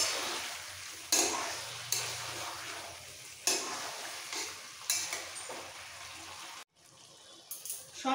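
Chicken sautéed with yogurt in a pan sizzles in bursts, with several sharp spatula scrapes and stirs, then a brief quiet gap before the frying resumes; close and fairly soft.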